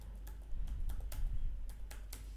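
Someone types a password on a computer keyboard, a short burst of irregular, fairly quiet key clicks over a low background hum, with no talking.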